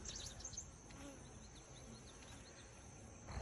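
Honeybees buzz around an open beehive being worked by a young beekeeper, a constant droning hum with individual bees whining past, close and steady, with no talking.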